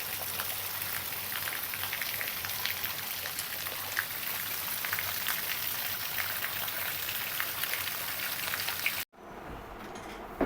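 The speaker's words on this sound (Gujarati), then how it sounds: "એક બાજુ તડકો પડે છે અને તડકામાં જ તે વરસાદ ચાલુ છે." Steady rain patters down in bright sunshine, a dense, even hiss of drops on surfaces close by that runs unbroken for about nine seconds before cutting off abruptly.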